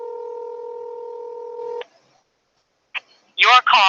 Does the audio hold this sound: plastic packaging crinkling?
no